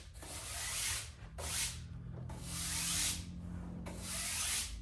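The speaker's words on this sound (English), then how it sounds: "When I clean the table, I don't go in circles." A table surface being wiped and brushed clean in long straight strokes, four broad swishing passes with short gaps between them, steady and close with no voices.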